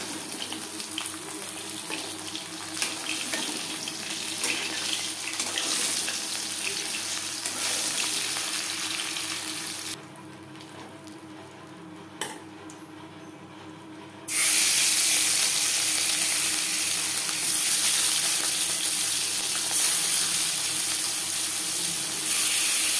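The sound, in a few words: frying bhangor fish in pan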